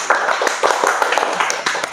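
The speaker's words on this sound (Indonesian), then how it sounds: "Tepuk tangan dulu, tepuk tangan." A small group in a podcast studio on regional government transaction electronification gives a short burst of scattered, close hand claps lasting about two seconds, with some sharp individual claps and no talk over it.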